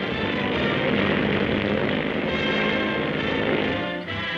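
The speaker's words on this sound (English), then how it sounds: "the successful test flight of the biggest of all skycraft, latest and largest addition to American air power" Douglas B-19 bomber, the largest U.S. Army aircraft of 1941, on a test flight, its propeller engines giving a steady, loud, broad droning roar that holds throughout and dips briefly near the end.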